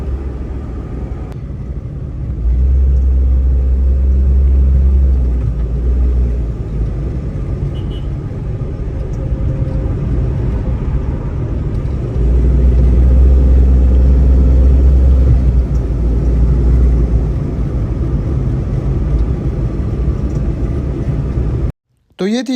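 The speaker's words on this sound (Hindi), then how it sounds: "तो ये थी जी गाड़ी की टेस्ट ड्राइव" A car on a test drive through heavy traffic gives a steady, loud low engine and road rumble that swells in places and cuts off abruptly near the end.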